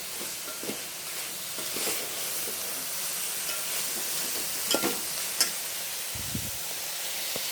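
Curry simmering in a pan after chili powder is added, a soft, steady sizzle and hiss with a few faint stirring clicks, fairly quiet throughout.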